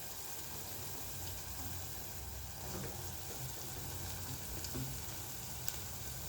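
Sliced onions and green chillies frying in a pan for a cluster bean curry, giving a continuous close sizzle with occasional small clinks, no voices.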